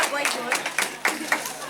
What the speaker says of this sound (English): Round of applause for Timmy.